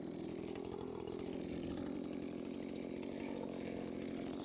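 A chainsaw cuts lengthwise through a log in a Granberg Alaskan mill, a faint but steady droning buzz that holds throughout.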